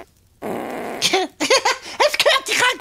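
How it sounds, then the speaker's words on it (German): A long, raspy fart sounds clearly for about half a second, then children or adults start talking and giggling on a kids' podcast. "ich habe gefurzt"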